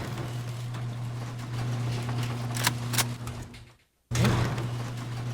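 Door being placed while building a base in the video game Rust; low steady hum with a few clicks and sharp ticks, then a brief dropout followed by a thudding placement sound, no voices.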